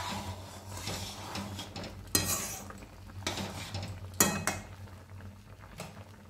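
Utensil scraping and clinking against a pan while stirring salt and jujube for Bengali kul pickle, a few sharper knocks among soft, quiet stirring with a faint background hiss.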